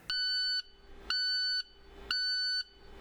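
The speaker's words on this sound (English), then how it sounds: "If the DPF light is flashing with a beeping alarm" Three steady electronic beeps from an International TranStar truck's DPF warning alarm, each about half a second long, repeating evenly at one-second intervals, clear and fairly close, with no talking.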